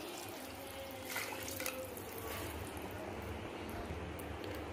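Water is poured steadily into a cooking pot for South Indian kichdi, giving a continuous splashing pour with no break. Faint kitchen sounds sit underneath.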